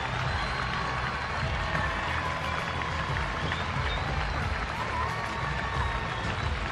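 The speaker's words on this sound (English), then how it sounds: "A big welcome from both sets of fans and the neutrals in the crowd." Rugby supporters at a Women's Rugby World Cup match between England and Spain applaud steadily as the teams come out, a dense wash of clapping and crowd noise that holds at an even level throughout with no speech.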